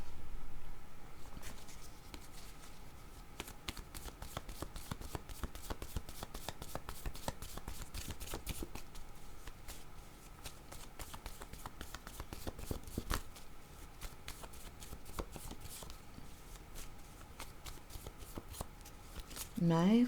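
Oracle cards being shuffled by hand, a long steady run of quick papery riffles and flicks, close and soft, going on for about twenty seconds.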